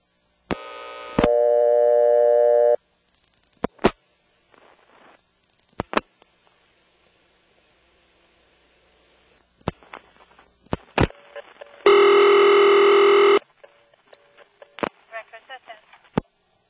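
Call to directory assistance over a step-by-step telephone exchange trunk with no EAS in Windsor, North Carolina: clicks, silences, loud call-progress tones and a ringing burst, with clicks and pulses between them and no speech.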